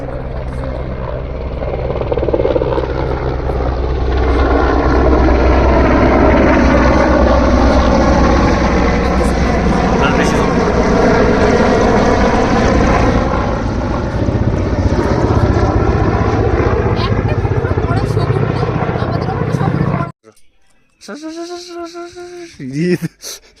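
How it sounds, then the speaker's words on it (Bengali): A helicopter roars loudly overhead in Gangtok with steady thudding rotor noise for about twenty seconds, then cuts off abruptly, leaving quieter background sounds. "হেলিকপ্টার যাচ্ছে"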